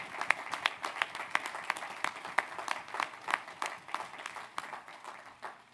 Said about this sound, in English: So one round of applause for everybody who volunteered as well.